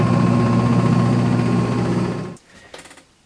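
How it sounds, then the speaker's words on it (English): Mini compact automatic portable washer in its spin cycle, a loud steady motor hum with rattling vibration that winds down and stops near the end, leaving faint clicks. "that's the spinning cycle to dry everything"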